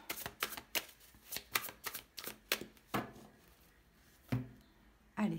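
Tarot cards are shuffled in a quick run of close, crisp riffling bursts for about three seconds, followed by a few separate taps and slaps as the deck is cut.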